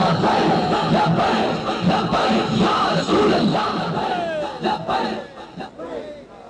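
A large crowd at a religious gathering in Pakistan shouts the Labbaik slogan in loud, rhythmic, repeated bursts. The roar is near and dense and fades toward the end.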